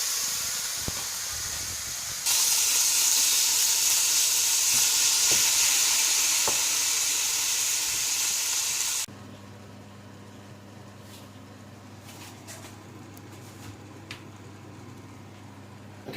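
Meat for spaghetti bolognese sizzles in a hot pan, a loud bright hiss that swells when stirred, then drops to a quieter fry over a low steady hum.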